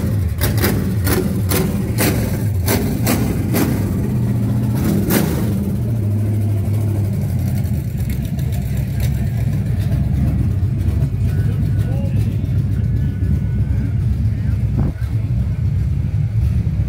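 A car engine at a Motorheads car show revving as the gas pedal is pressed, a loud close rumble with sharp clicks early on, settling into a steady drone with people talking over it.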